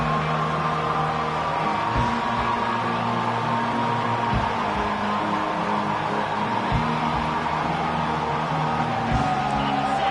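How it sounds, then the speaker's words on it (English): Dense roar of a stadium crowd at an LSU college football game, a continuous loud wash of cheering and noise with low booming thumps recurring every couple of seconds. "This crowd trying to show them what it's going to be like all day in this house"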